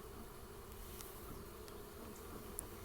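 Honeybees buzz steadily around an open honey beehive, a dense continuous drone held close and even for about three seconds, with a few brief louder passes of single bees near the end.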